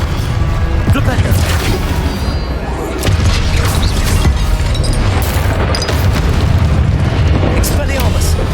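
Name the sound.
Flipendo spell cast in a Harry Potter video game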